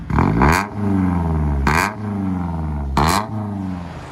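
A 1991 Toyota MR2 with a 2.0-litre turbo engine revs up three times in quick succession, each rise in pitch followed by a drop back toward a steady idle, loud and close with no talking.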